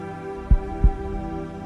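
A heartbeat plays beneath a guided meditation, with two deep, soft thumps about a third of a second apart over a steady low hum, close and even, with no voice heard.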